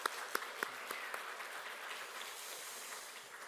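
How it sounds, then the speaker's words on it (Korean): Applause from a church congregation after a choir's hymn, a steady wash of clapping heard from a distance with a few sharper claps near the start. "우리 다시 한번 하나님께 영광의 박수 올려드리도록 하겠습니다."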